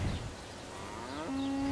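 A cow at a dairy operation of about 1,000 milking cows on 330 hectares in Canterbury lets out a single drawn-out moo that rises and then holds a steady low tone, clear and fairly close over quiet background.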